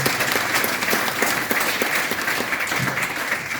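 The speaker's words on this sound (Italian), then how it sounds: "un applauso che sia più che dovuto" Continuous, even applause from an audience at an event honouring two cycling champions, full and close with no talk over it.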